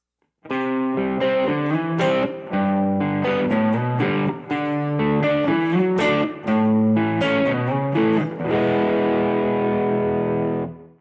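Distorted electric guitar strums a chord sequence in a steady rhythmic pattern, bright and loud, ending on a sustained ringing chord.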